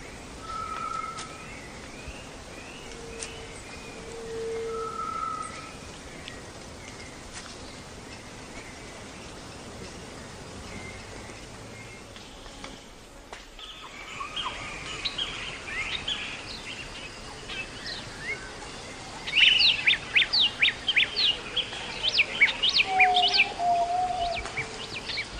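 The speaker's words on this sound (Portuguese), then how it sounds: "o canto de trêmula satisfação da fêmea recém-coberta" Birds sing in the Atlantic Forest, with soft scattered whistles early on, then a trembling, rapid chirping song building louder in the second half over a hushed forest background.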